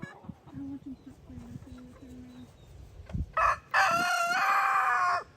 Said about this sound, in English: You got roosters and chickens